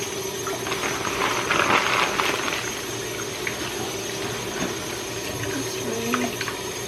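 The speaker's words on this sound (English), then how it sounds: "I'm just going to give them a quick wash with cold water." Cold tap water runs steadily over large raw lobsters in a kitchen sink, a close continuous splashing with small irregular spatters and shifts as the shells are handled.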